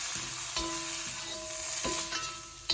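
Meat spice powder sautéing in hot oil for a Jaffna-style mutton piraddal curry, a steady close sizzle broken by periodic scraping stirs of a spoon against the pan, with no talking.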